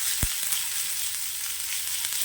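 Tomato and grated coconut sautéing in a pan for a mushroom gravy, giving a steady soft sizzle with a few light stirring knocks, close and alone.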